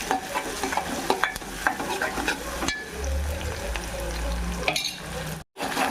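Onion pieces with shahjeera fry in a pan, a close steady sizzle broken by stirring taps and scrapes, with a low rumble partway through and a brief cut near the end, no talk.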